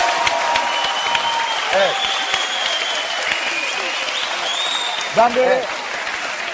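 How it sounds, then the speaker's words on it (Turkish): Studio audience applause fills a Turkish TV talk show set, a dense, steady clatter of clapping lasting several seconds while someone speaks over it. "Alkışlarım."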